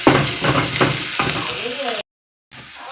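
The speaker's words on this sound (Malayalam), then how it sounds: "സവാള ചെറുതായിട്ട് വഴണ്ട് ഗോൾഡൻ കളറിൽ വരുന്നുണ്ട് കേട്ടോ." Onions sautéing with salt in a pan: a loud, continuous hiss of frying with a few stirring scrapes, close up, then a brief dropout of silence before the sizzle resumes.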